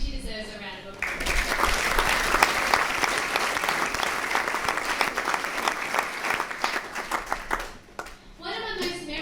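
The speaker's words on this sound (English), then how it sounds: "I think she deserves a round of applause" Wedding guests at a reception burst into a long round of applause, dense clapping sustained for several seconds before fading, with voices briefly heard at the start and end.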